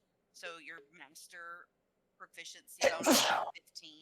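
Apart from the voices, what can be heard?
sneeze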